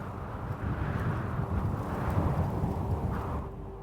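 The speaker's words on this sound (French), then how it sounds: "Le premier, c'est celui du vent." Soft, constant wind blowing with a low, steady rumble. No voices.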